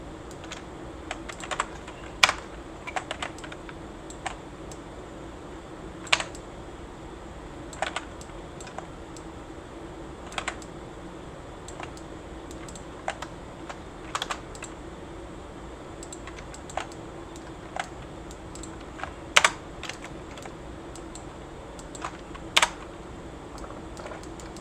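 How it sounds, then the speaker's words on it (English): Sparse, irregular light taps and clicks over a faint steady hum, quiet and close, with no talking. "It's like a tapping sound."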